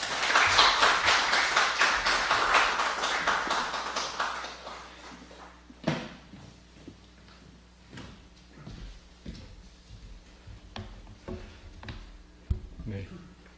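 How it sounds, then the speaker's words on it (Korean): A church audience claps to welcome a speaker to the front, a burst of applause that fades out over about four seconds, followed by scattered knocks and handling sounds with quiet talk. "나오실 때 우리 모두 환영으로 박수해 주시기 바랍니다"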